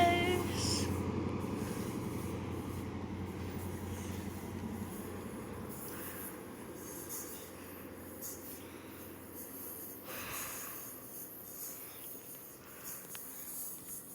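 An HST Class 43 diesel power car pulls out of a railway station, its low engine rumble and wheel noise steady and fairly loud, fading slightly as it departs, with no talk over it.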